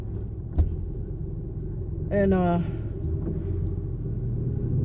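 A car's engine and road rumble heard from inside the cabin while driving, a steady low drone throughout with a brief spoken word over it.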